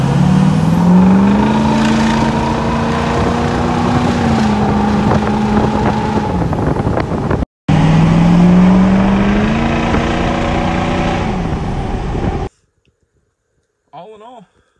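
A Ford 6.0 Powerstroke diesel truck with a FICM tune accelerates at part throttle, its loud engine drone rising in pitch in two long pulls, then cutting out to near silence with a brief voice at the end.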